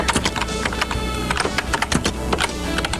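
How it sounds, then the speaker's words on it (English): Fast, uneven typing on a computer keyboard gives close, crisp clicks in irregular bursts throughout, with no voices. "It's mostly just typing sounds."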